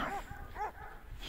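A dog with puppies, out in the snow, gives a few close, short barks and whimpering yips in quick succession.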